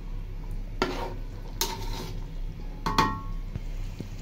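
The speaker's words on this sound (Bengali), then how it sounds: "কিছুক্ষণ নাড়াচাড়া করে মাংসটা নামিয়ে ফেলবো" Chicken with cumin powder is stirred in a pan: a few distinct metallic scrapes and clinks of a utensil against the pan over a faint sizzle, close by and without speech.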